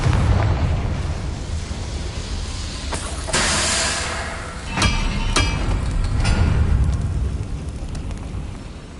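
Bombarda spell explosions in a Harry Potter video game: several loud, sudden blasts with a hissing, crackling tail, set over a steady rumbling background.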